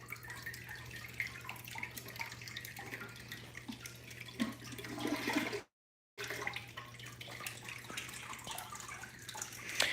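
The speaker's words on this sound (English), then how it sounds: "1 more flush of this." Delta toilet flushing with a steady rush of draining and refilling water, close and continuous, with a brief gap partway through; no voices.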